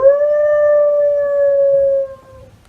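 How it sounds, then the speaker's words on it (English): A coyote in a residential backyard lets out one long, clear sustained howl that holds steady for about two seconds before cutting off, alone against faint background noise. "A howling coyote caught on camera by an Old Town resident right in their backyard."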